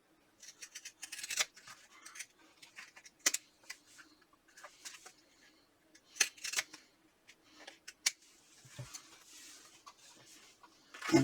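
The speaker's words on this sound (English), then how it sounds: "Now I want to cut this down using a pair of pinking shears." Pinking shears cut through fabric for a clutch in a series of crisp, irregular snips and crunches, close and fairly quiet against a silent background.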